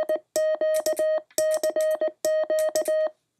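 Morse code CW from a K3NG Arduino keyer worked with a paddle: a single steady tone keyed into crisp groups of dits and dahs, loud and clean, with brief gaps between characters.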